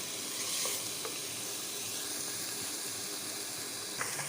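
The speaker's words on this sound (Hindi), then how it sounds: "ये देखिए हमारा गाजर का हलवा ज़बरदस्त सा भून चुका है।" Carrot halwa fries in desi ghee in a pan with a steady, even sizzle and a few faint clicks of stirring, close up and with no one talking.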